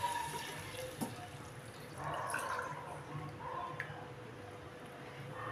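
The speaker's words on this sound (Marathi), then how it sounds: "आता आपण पाणी सोडून देऊ।" Water is poured into a cooking pot holding a turmeric, ginger and sambar-paste mix, a faint splashing trickle with a brief fuller gush in the middle.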